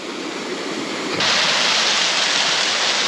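Mountain stream water pouring and rushing in a steady broadband roar, growing louder partway through and staying strong and continuous with no voices.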